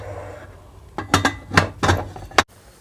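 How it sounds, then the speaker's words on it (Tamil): Metal clinks and clatters from a pressure cooker lid being fitted and shut in a home kitchen while cooking chickpea and brinjal tamarind curry, a few sharp knocks over about a second and a half, ending in one firm clack, no talk. "இப்போ குக்கரை மூடி வச்சிடலாம்."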